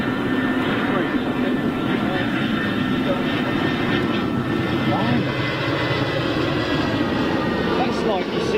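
A big passenger jet passing near an airport, heard as a steady, loud broadband engine roar that holds evenly for several seconds, with faint voices in the background.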